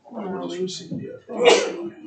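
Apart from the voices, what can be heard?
sneeze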